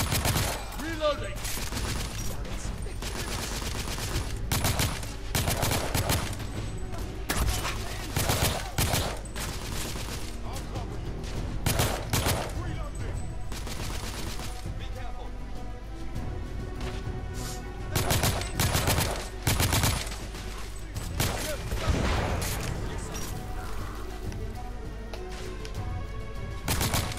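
Dense, sustained gunfire from The Order: 1886 during a courtyard firefight with rebels, with rapid overlapping bursts, sharp individual shots and automatic fire continuing nearly the whole time at a steady, loud level.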